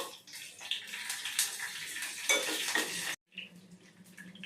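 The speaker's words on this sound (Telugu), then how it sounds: "దీనిలోనికి 4 ఎండుమిరపకాయలు ఈ విధంగా తురిమి పెట్టుకున్నానండి. వీటిని వేస్తున్నాను." Four crushed dried red chillies go into a hot tempering of mustard and cumin seeds for vamaku rasam, making a steady loud sizzle and crackle with light utensil clinks, then a brief cut and softer frying.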